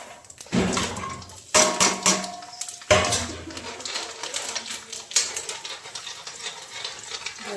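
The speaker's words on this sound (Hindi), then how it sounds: "अब तेल चढ़ा दिया, अब अजवाइन डालूंगी" Ajwain seeds go into hot oil for tempering, alongside chopped garlic in a home kitchen pan, producing a close crackling sizzle with sharp clinks of a spoon or utensil against the pan, and no talking.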